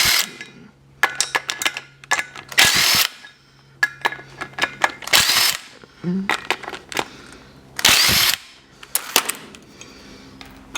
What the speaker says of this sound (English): all I need to do is just undo these 14mm bolts, and then the rotor will drop away from the hub assembly